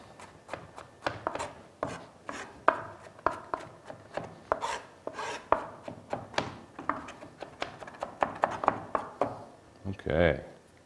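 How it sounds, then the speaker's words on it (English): Garlic and onions chopped with a knife on a cutting board, a rapid series of crisp, close knocks at an uneven rhythm, with a brief louder scraping rub near the end. "I wanna sweat my garlic and onions that I'm about to chop for this recipe."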